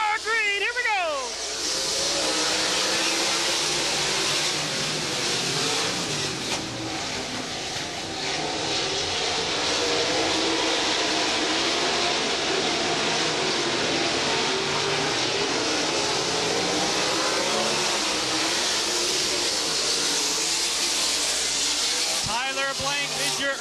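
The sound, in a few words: wing sprint car engines racing at speedway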